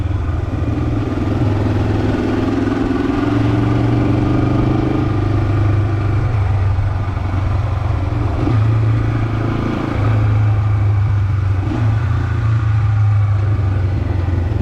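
A Honda CL450 motorcycle riding through the French countryside and into a tunnel, its engine droning loud and steady close up, with rushing wind and a shifting tone as the ride goes on.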